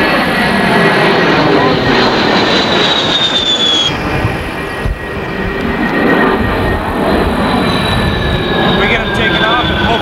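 An A-10 jet flies at high altitude near an Air Force base gunnery range, a loud continuous roaring whine with a shifting high-pitched tone, sustained throughout and close to the listener.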